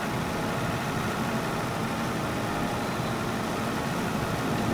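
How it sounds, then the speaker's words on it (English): A tractor in Farming Simulator 22 labours up a steep hill under load while driving its PTO, giving a steady, dense engine drone at constant volume with no talk. "The workload on the engine must be high right now. It's obviously turning that PTO and climbing up this hill."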